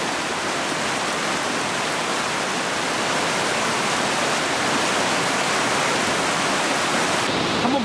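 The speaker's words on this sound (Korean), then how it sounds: "물소리 들어보세요" Spring water at Tel Dan in northern Israel flows in a loud, constant broadband rush, close and unbroken throughout, with no talking over it.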